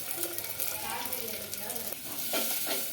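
Onions and green chillies fry in hot oil, a dense close sizzle with scraping stir strokes throughout, no talking.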